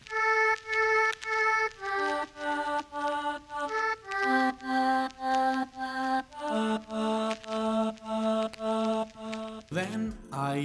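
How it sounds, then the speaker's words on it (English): Synth lead using the Mount Vocals preset from Sky Keys, with a vocal-like tone, plays a simple repeating pattern of short pulsing notes, in a groovy sample-based beat. It is steady and fairly loud, with no talking. "Then I came down using another lead still from Sky Keys, which is called Mount Vocals."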